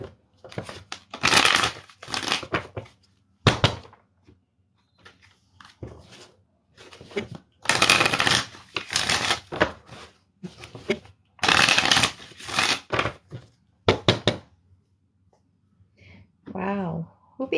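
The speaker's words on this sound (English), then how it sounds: "Gotta shuffle my cards." Tarot cards being shuffled in repeated bursts of crisp riffling and flapping, with quiet gaps between them, close up. A brief voice comes in near the end.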